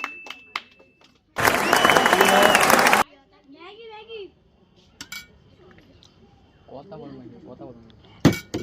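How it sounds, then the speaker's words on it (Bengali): A group of children at a noodle-eating challenge game break into a burst of loud, dense hand clapping lasting about two seconds, followed by quieter talking and scattered clinks. "সবাই হাততালি দাও"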